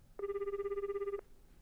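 A landline telephone rings once in Shibito Magire after a number is dialed from a school infirmary phone, a steady warbling electronic ring lasting about a second, clear and alone over quiet background.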